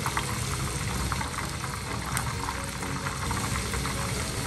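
Paratha naan frying in oil, a steady, loud bubbling sizzle that stays constant from start to finish with no talking.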